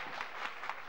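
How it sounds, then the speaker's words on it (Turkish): A short burst of audience clapping at a December 1995 Özbağı village association night, soft and somewhat distant, with a few distinct hand claps rising from the patter. "bir alkış daha istiyorum."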